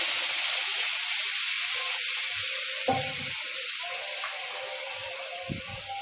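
Lentils with cumin fry in hot oil, making a steady close hiss and sizzle that fades slightly, with a couple of faint clinks from the pan and no voices.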